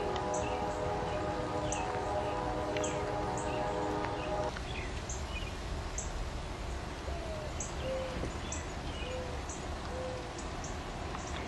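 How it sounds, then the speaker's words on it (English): A dove coos outdoors on a residential street, a few soft repeated calls in the second half, after a long train horn blares in the first few seconds over steady wind and traffic noise. "Here's the dove."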